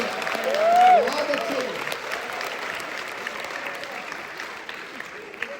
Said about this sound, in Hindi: कसम है केवल वो लोग ताली बजाना जिन्हें बात समझ में आए।